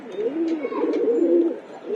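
Pigeons coo in low, throaty, rolling calls, repeating steadily at close range with no pauses.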